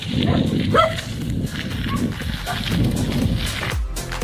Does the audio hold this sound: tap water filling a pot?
no